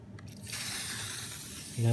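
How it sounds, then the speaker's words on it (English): WD-40 aerosol can sprays a line onto a slot car track, a steady close hiss lasting over a second that cuts off at the end. "So I take the WD-40 and you just spray a line,"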